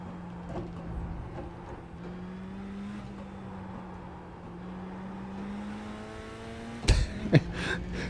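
A mini stock race car in an iRacing game drones steadily at a constant engine pitch, then bumps over curbs with a few sharp, clattering jolts near the end. No one talks.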